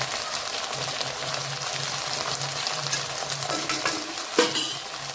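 Hakka noodles stir-fried with soy sauce in a hot pan, a continuous sizzle with scraping and tossing of utensils against the pan, close and steady, with a sharper clatter near the end.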